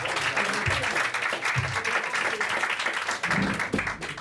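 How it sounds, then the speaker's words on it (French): Steady crowd applause fills the clip, dense and continuous, with a few low thumps underneath and some voices mixed in. "Et on l'applaudit parce on les applaudit bien fort."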